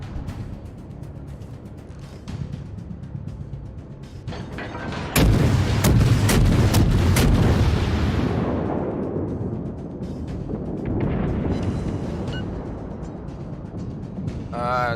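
Guns of the Japanese tier II cruiser Chikuma fire in World of Warships, a loud booming salvo with sharp blasts followed by a long rumbling decay and later a second swell of rumble.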